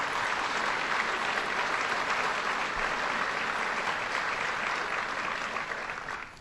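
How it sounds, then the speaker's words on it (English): Steady, dense applause from a large audience at a governor's budget address in Rochester, honouring members of the state legislature; loud and sustained throughout, tapering slightly at the end. "let's give the members of the legislature who are here a round of applause"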